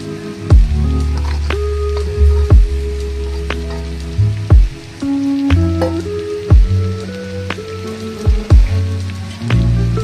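Crumbled paneer is tipped into a pan for paneer bhurji, giving a close, moist spattering and soft thuds as pieces drop in one after another over a low steady sizzle.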